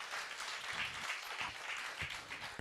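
A church congregation claps during a pastor's sermon, a sustained patter of many hands heard from across the hall, moderately loud and even throughout.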